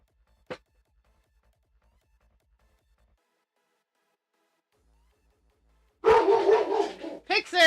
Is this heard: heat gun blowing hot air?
no